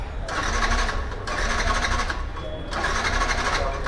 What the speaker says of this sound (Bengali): বাইকটাতে একেবারেই ফুয়েল নেই যার কারণে স্টার্ট হচ্ছে না